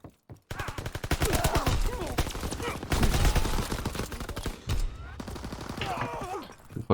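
Rapid gunfire from a PS4 shooter video game, sustained machine-gun-like bursts running for several seconds with short breaks, loud and close.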